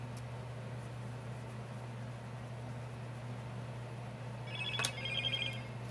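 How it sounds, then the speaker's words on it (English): Phone notification chime sounding once near the end, a brief bright ping above a steady low hum and faint background hiss during a nail art session. "Sorry about the phone notifications."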